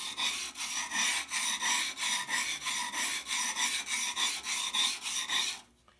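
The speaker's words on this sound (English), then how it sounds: "I'm going to put the tool flat and turn it up until I feel that I'm on the bevel, and then I'm just going to go back and forth" A carving tool's bevel is rubbed back and forth on sandpaper for sharpening, giving a steady rhythmic rasping stroke about three times a second, close and fairly loud, stopping abruptly near the end.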